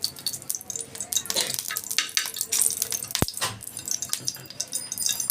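Ghee sizzles in a frying pan with a crackling hiss, close and uneven, punctuated by a sharp clack partway through.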